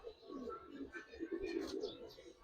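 Giribaz pigeons cooing softly in a loft, a steady low, throaty murmur of several birds overlapping, faint and continuous with some higher chirps mixed in.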